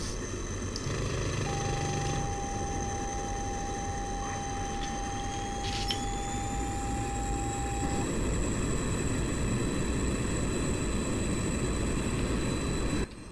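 A MiG-21bis jet in a flight simulator game roars with a continuous, dense engine rumble and whine, loud and steady throughout, with thin tonal cockpit beeps layered over it.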